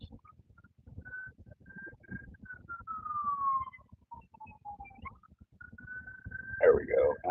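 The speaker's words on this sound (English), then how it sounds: "An ambulance shows up to screw up the stoplights." An ambulance siren wails faintly in the distance, its pitch sliding up and down beneath a man's speech, then rises louder near the end.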